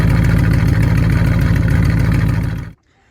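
A Corvette with stock H-pipe exhaust and no catalytic converters idles loudly up close with a lumpy, tractor-like pulse, then cuts off abruptly into silence.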